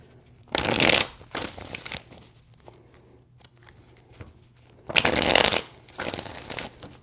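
Tarot cards are shuffled in two loud, crisp riffling bursts several seconds apart, with softer card handling between them and no talking.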